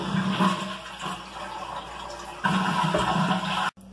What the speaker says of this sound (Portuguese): Eu gosto sempre de dar descarga antes